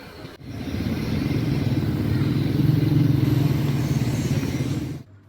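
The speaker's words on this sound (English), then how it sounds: "This girl then puts her feet on the road as this Toyota Fielder is approaching" A Toyota Fielder car comes along a road at a school crossing, its engine and tyre rumble swelling loud and near, holding, then cutting off abruptly.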